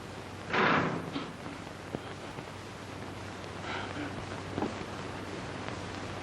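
A door in an old prison film shuts with one sharp thump early on, followed by fainter knocks and shuffling in a quiet room.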